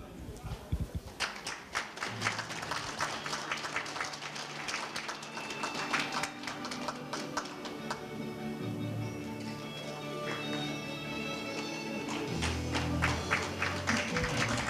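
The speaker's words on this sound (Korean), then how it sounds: "큰 박수 네, 부탁드리겠습니다" Audience at a Korean labor culture award ceremony at Korea University applauding a winner, sustained clapping from many hands while a voice speaks over it, growing fuller toward the end.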